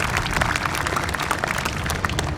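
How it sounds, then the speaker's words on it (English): An Eid al-Adha crowd at a high school gives the youth a dense, steady round of applause, loud and continuous with no voices. "Please give a round of applause for our youth today"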